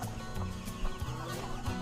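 Chickens cluck and murmur continuously nearby, with a few sharper calls over a busy background.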